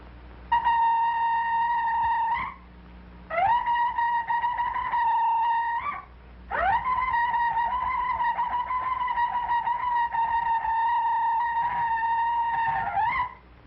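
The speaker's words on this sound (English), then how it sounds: "I have fashioned for myself an instrument made from the horn of a ram." A ram's horn sounds three sustained, bright, brassy blasts: two shorter ones, then a long held note, each with a slight rise at the end.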